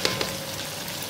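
Pasta sauce with chili powder and black pepper sizzles in a pan during sautéing, a brief steady fry with a couple of soft stirring clicks, fairly quiet.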